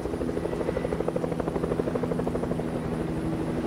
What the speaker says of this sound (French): Il y a un hélico, je l'entends.